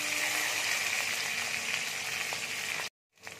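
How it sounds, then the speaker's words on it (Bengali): Onion frying in olive oil in a wok for white paneer korma, a steady close, loud sizzle running unbroken for nearly three seconds before cutting off abruptly, with no talking. "এবার পেঁয়াজটা দিয়ে দিচ্ছি।"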